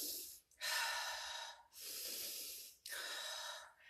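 A person takes exaggerated deep breaths to imitate a pet's breathing: three long, loud, airy inhales and exhales in an even rhythm, recorded up close with brief gaps between them.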